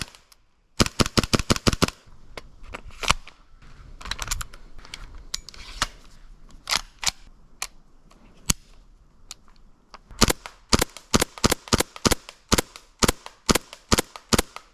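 An airsoft gun fires rapid bursts of sharp, snappy cracks close by, in fast strings with pauses between them and some scattered single shots, at about fifteen rounds per second.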